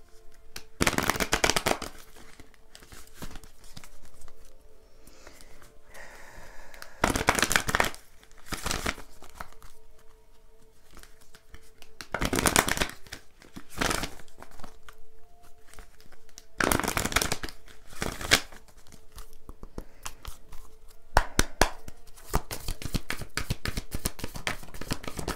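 Tarot moon cards are shuffled and handled in repeated riffling bursts separated by quieter pauses, close up, with a fast flurry near the end and no talking.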